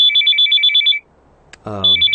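A mobile phone ringtone for an incoming call: a bright, repeating electronic melody that plays loudly for about a second, stops, then resumes over a voice.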